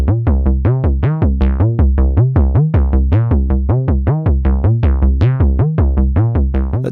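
A 1979 Roland System 100M modular synth plays a fast, steady sequencer pattern of one sawtooth and one square oscillator down an octave, shaped by filter, VCA and envelopes, with loud, evenly repeating plucky notes and no talk.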